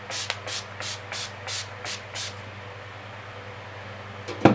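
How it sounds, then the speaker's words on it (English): Seven short hissing sprays of a makeup setting spray bottle in quick succession, close and soft, followed by a brief rustle at the end. "I'm going to use the Scandinavia finishing makeup spray"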